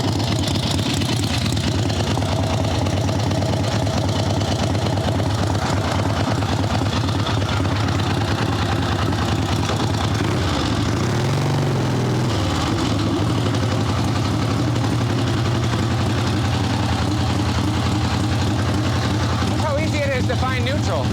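Harley-Davidson Evolution (EVO) V-twin on a swap-meet chopper idling steadily for the whole stretch, a deep continuous low rumble with a brief dip in the middle, sitting close and loud.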